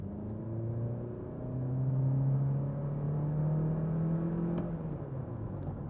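A Honda Civic Oriel 1.8 with a Prosmatec gearbox accelerates with the pedal floored, its engine rising into a steady, moderately loud drone from inside the cabin, with no talk.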